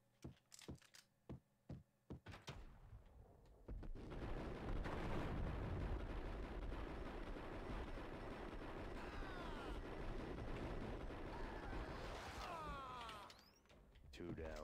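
Grenade blasts in Max Payne: a few sharp clicks and thumps, then a loud, sustained roaring rumble that fades slightly toward the end, with voices faintly audible.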